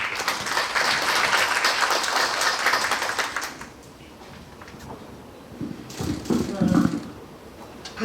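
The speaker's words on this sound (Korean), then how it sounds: "뜨거운 박수 부탁드리겠습니다." A crowd applauds steadily for a few seconds at a small business association briefing in Uiwang, South Korea; the clapping fades, and then a voice begins speaking Korean over quieter room noise.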